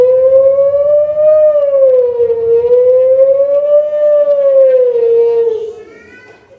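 A person vocally imitates a passing ambulance siren at a St. Thomas Day celebration at St. Mary's Church, Kalpra, sustaining one loud, rising and falling wail for about five seconds before it fades out.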